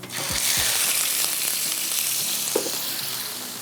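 Chicken and vegetables fry in a pan with a loud, continuous close sizzle, broken by a few low knocks and clatters of stirring, and no voices.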